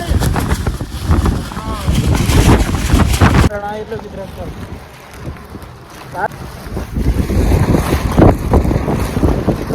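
Strong wind buffets the microphone with loud, roaring gusts, easing briefly before surging again, while people talk intermittently.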